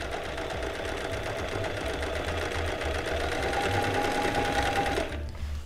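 Sewing machine stitching fabric for a hand clutch, a steady rapid mechanical whirring hum running continuously at close range before stopping abruptly near the end.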